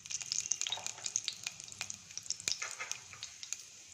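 Fennel seeds sizzling in a couple of spoons of hot oil in a pressure cooker, a steady crackle with frequent sharp pops and spits, close and fairly quiet, with no voices.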